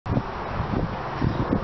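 Wind gusting through a park on a hill, a steady broad rush with soft rustling swells that rise and fall in gentle waves, close to the microphone, with no voices.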